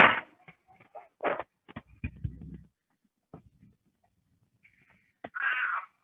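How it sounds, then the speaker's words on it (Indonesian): A cat meows several times up close, short scattered cries spread over a few seconds with quiet gaps, ending in a louder drawn-out meow. "Kucing saya datang."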